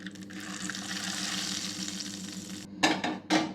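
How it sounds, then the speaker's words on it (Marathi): A steady, close hiss of hot tempering poured onto idli chutney fills most of the moment, then two sharp louder bursts of splashing or stirring at the end. "आता ही फोडणी घालू आपण या चटणीवर"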